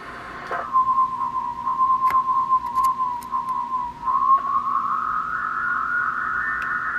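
Steady whistling beat tone from a Uniden MB8719 CB radio on SSB, tuned off zero beat, sliding upward in pitch toward the end, with a few faint clicks, loud and close with no talk.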